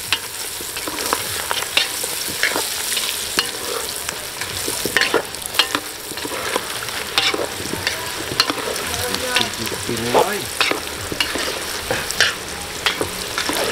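Pungko-pungko, crispy Cebu street fritters, deep frying in a pan of oil, a loud close sizzle peppered with sharp crackles and repeated stirring clinks and scrapes, continuous with no talking.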